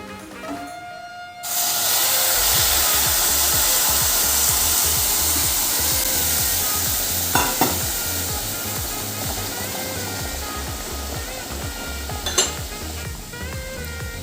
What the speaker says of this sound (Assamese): ইয়াতে মই এতিয়া এই গৰম কৰি থোৱা পানীখিনি দি দিম।